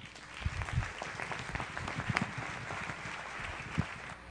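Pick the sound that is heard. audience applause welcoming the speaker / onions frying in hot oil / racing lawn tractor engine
audience applause welcoming the speaker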